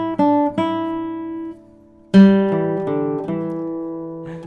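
A classical guitar plays two short bars of a grade 1 piece, with a few plucked notes ringing out, a pause, then more notes sustaining, clear and close with no talking.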